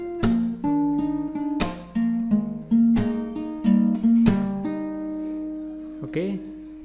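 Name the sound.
guitar playing second part of a song intro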